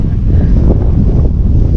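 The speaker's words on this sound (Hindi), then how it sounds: "बिल्कुल हवा चल रही है" Strong wind blows across an open hilltop viewpoint in New Tehri, Uttarakhand, a loud continuous roar buffeting the microphone with no talking.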